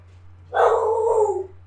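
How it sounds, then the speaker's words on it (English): A single dog bark or yelp, loud and close, stretching into a drawn-out whine-like call for nearly a second over a steady low hum. "Faith, stop barking!"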